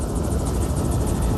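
Helicopter flying over the South Downs in East Sussex, a loud steady rotor chop and engine whine filling the whole stretch, close and continuous with no voices.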